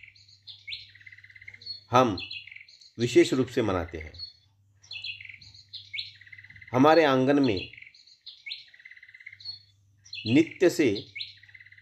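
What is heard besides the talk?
house sparrows chirping in a courtyard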